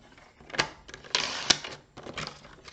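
A paper trimmer slices sheets of designer series paper, giving a few short, close scraping swipes and clicks that come in quick bursts with small pauses between them, and no one talks.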